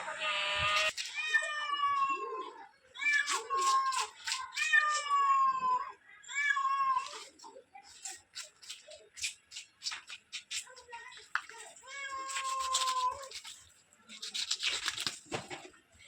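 A cat meows again and again in loud, close, drawn-out calls, with short pauses between bursts and some rustling and shuffling underneath.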